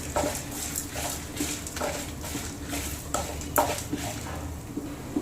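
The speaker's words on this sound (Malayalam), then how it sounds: "ഈ ഡ്രൈ എല്ലാം നമുക്ക് ഇതിലോട്ട് നന്നായിട്ടൊന്ന് വറുത്തെടുക്കാം" Dry spices and chillies being roasted in a pan over medium flame, with a spoon or spatula scraping and stirring in repeated strokes and a light crackle underneath.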